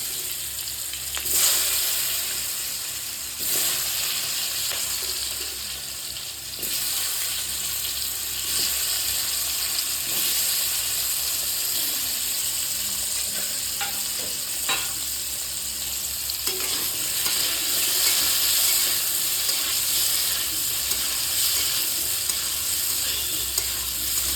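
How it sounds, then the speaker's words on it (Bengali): Potatoes frying in hot oil in a wok, a steady loud sizzle with occasional stirring scrapes and clinks, continuous and close with no talking. "গরম হয়ে গেছে, আলুগুলোকে সুন্দর করে লাল লাল করে ভেজে নেবো।"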